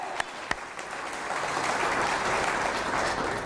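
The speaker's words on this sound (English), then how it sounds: "Give yourselves a big round of applause." A crowd claps for first responders and Home Depot volunteers at an Operation Save a Life event in Cary, with two sharp claps first and then steady, moderately distant applause that holds to the end.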